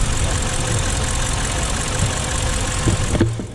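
A 4-liter twin-turbo V8 in an Audi RS7 idles steadily and close by, a low, even rumble that holds constant throughout with a few faint clicks near the end.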